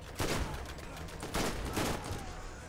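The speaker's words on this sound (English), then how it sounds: "I'm using an assault rifle right now" Assault rifle gunfire in the video game Borderlands, with several bursts of rapid shots at close range, loud and layered over busy game noise and no talk.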